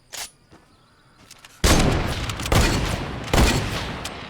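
Two carbines fired in bursts in a shooting video game: a few faint clicks and a small pop, then three loud, dense volleys of rapid gunfire, each cut off abruptly, close and alone without talk.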